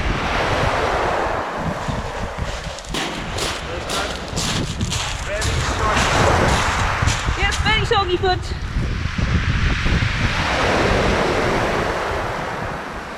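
Loud surf crashing and washing in repeatedly on a Jurassic Coast beach, with heavy wind buffeting the microphone and a person speaking briefly partway through.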